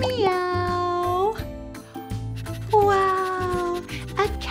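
A cat meowing in a children's farm-animal song setting: two long, drawn-out meows, loud and close, with a short pause between them.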